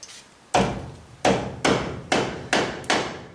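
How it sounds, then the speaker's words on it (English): Six sharp hammer blows on a metal part of a 1962 AMC Rambler, evenly spaced and close, each with a bright ringing decay. "In this case, we're going to hammer it down."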